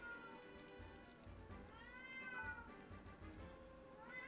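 A needy pet cat meows repeatedly in drawn-out, rising and falling cries, close and fairly loud, over a steady low background hum.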